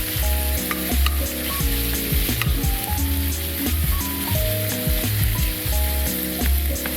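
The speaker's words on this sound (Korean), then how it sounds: "그 다음 후춧가루를 넣고 고기가 뭉치지 않도록 잘 뭉개면서 볶아주세요." Ground pork with black pepper stir-fries for Thai basil pork rice, a steady close sizzle under a busy layer of spatula scraping and pan clatter, with soft music behind it and no talking.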